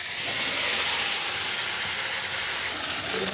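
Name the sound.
onion, ginger, garlic, green chilli paste sizzling in hot oil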